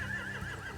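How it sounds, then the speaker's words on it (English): A horse whinnies in The Walking Dead: The Final Season video game, a short wavering neigh in repeated rising swells, clear and fairly close with no talk over it. "They have horses."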